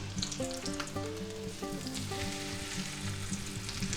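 Chicken cutlets frying in a pan, a soft continuous sizzle with faint crackles, nearly covered by a louder melodic tone sequence playing throughout.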